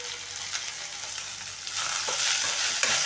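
Onions frying in oil for onion sagu, a loud continuous sizzle with scraping stirring strokes that grow slightly louder toward the end, with no voices.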